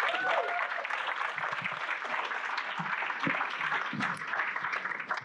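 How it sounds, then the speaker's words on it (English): An audience at an evening chocolate and coffee event claps in a steady round of applause, fairly soft and even throughout, with faint crowd murmur beneath. "Can we give them a round of applause?"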